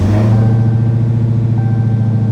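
A 2018 Dodge Challenger SRT Demon V8 idling close by after start-up, a loud, steady, deep rumble that holds even throughout with no revving.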